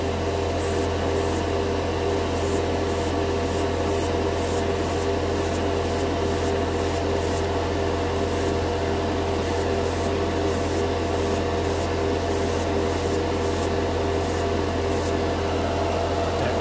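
Airbrush spraying unthinned Model Air paint at 20 PSI onto a primered white spoon, heard as a steady close hiss of air throughout, broken by short rhythmic bursts as the trigger is worked.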